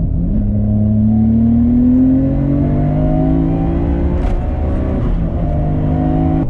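Tuned Nissan RB26 engine in a JDM car revving, a loud, steady harmonic drone that climbs gradually in pitch, then eases and holds, close and continuous with no talk over it.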